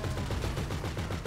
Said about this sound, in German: Guck mal, ich schieße den da platt